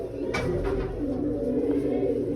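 Pigeons coo softly and continuously inside their loft, close by, a low rolling murmur with a brief rustle near the start and no talking over it.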